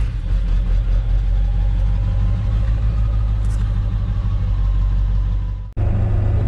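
An axle-swapped OBS truck fitted with a new sway bar, heard from inside on a test drive: a steady, loud engine rumble and road drone throughout, briefly cut off near the end before resuming.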